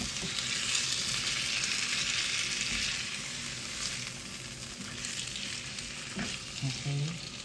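Chicken frying in a pan and being stirred, a dense continuous sizzle with occasional utensil scrapes, close and steady, with no talking.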